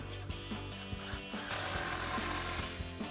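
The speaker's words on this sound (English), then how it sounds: "Now we're going to tighten our hanger on the back, impact and 15mm socket" Impact wrench with a 15mm socket tightening an exhaust hanger bolt on a Silverado 1500 fitted with a Flowmaster Signature Series dual exhaust, heard as a run of rattling mechanical bursts, close and fairly loud, with no talking.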